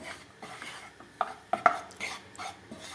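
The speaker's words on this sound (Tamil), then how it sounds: "இந்த கடலை மாவை கொஞ்சம் லைட்டாக ரோஸ்ட் பண்ணிக்கலாம்" Gram flour dry-roasting in a pan over a medium flame while a spoon stirs it, giving soft scraping and a few sharp metallic clinks against the pan, quiet and close, with no one speaking.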